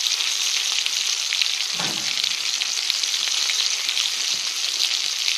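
Chicken wings fry in hot oil with a constant bright sizzle and crackle, plus a short low clunk partway through as they are stirred or moved, no speech.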